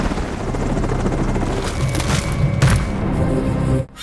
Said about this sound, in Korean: 뉴욕주에 있는 한 숲속을 운행하는 헬기.